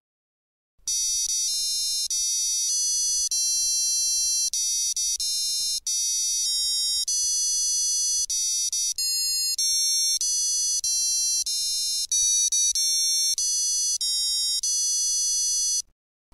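Marty the Robot, a small walking STEM robot from Robotical, plays a steady electronic melody of clear beeping tones, one note after another, at an even, close, moderate level with no voices.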